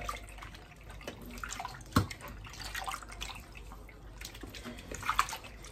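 Goat meat is washed by hand in water with lemon for Jamaican curry goat, making soft irregular sloshing and dripping sounds close by, with a sharper splash near the middle and another near the end.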